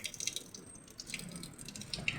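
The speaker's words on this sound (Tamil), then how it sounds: "கொஞ்சமாக தண்ணி எடுத்து காலை கழுவணும்" Small splashes of water poured over feet during ablution, faint intermittent trickling and drips with soft rushing in the background.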